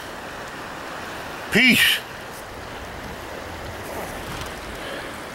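Rapids on the Broad River during a canoe trip keep up a steady, broad rushing hiss of moving water, with one short spoken word breaking in briefly near the middle.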